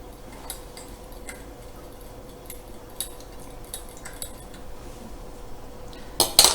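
A utensil scrapes and clinks against a bowl while salt and pepper are mixed into a pastry filling, with irregular light taps and a louder clatter at the close.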